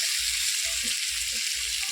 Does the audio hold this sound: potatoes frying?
yes